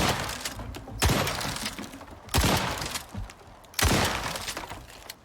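Three loud, sharp blasts from a rusty shotgun, a basic pipe weapon in the survival game Icarus, fired into a structure, each about a second and a half apart with a short ringing decay.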